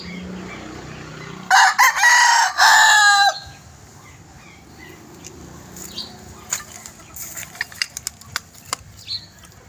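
A white rooster crows loudly once, a long strained call, followed by wing flaps and scattered clucks and rustling nearby.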